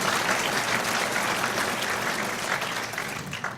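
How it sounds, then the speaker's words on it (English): Dense, loud audience applause at a softball hall of fame induction ceremony in Manitoba, honouring a broadcaster, a steady wash of clapping that tapers slightly near the end. "how about a big round of applause for Bruce Lupke"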